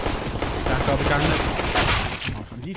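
Dense, continuous gunfire from a competitive first-person shooter match, loud bursts of shots overlapping one another for several seconds while a commentator talks over them.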